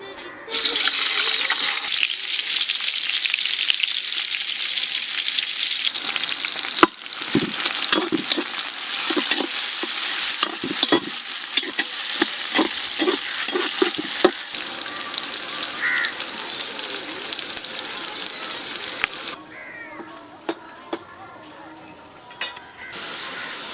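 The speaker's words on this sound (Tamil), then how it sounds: "எண்ணெய் நல்லா சூடாயிருச்சு. நம்ம நறுக்கி வச்ச பல்லாரியை போட்டுக்குவோம், பெரிய வெங்காயத்தை." Big onions sizzle and crackle in hot oil throughout for chicken biryani, loud and close, with a burst of stirring clatter and scraping in the middle.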